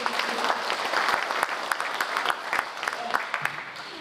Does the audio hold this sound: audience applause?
yes